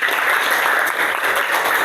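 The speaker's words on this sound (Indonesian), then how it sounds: "Bagus, tepuk tangan." Applause from a class of fifth-grade primary school pupils during a science lesson, a steady, dense clapping that carries evenly from start to finish with no voices over it.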